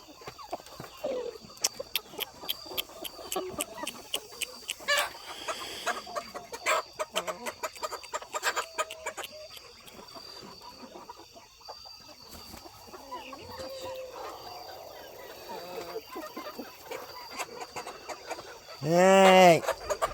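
Chickens and guinea fowl cluck and chatter in a coop, with scattered close calls and short squawks throughout and a loud burst near the end, while a person talks to the birds intermittently.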